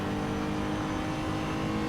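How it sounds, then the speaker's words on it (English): A race car drives down the pit straight at Brno in a racing game, its engine holding a loud, steady high-revving drone throughout. "Alright, just rounded the final corner, going down the pit straight."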